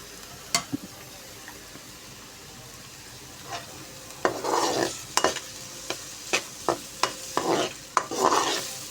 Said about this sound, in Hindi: अब हम प्याज ऐड करेंगे और प्याज को फ्राई करेंगे अच्छे तरीके से।